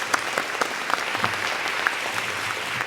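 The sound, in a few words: audience applause for student choirs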